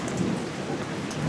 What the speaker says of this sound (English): the rain is finally beginning to ease a little bit